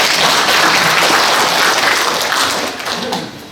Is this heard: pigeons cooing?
no